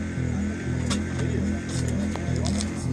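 A drag race car's engine at a Chuckwalla eighth-mile big-tire grudge race runs in a loud, steady low rumble with pulsing throttle swells throughout, close by and dominating the scene.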